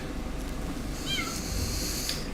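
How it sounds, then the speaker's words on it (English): A stray cat meows under a porch, a single short wavering call rising and falling in the middle of the clip. It is faint and set against a steady outdoor background hiss, with no talking. "I hear some meowing underneath my porch"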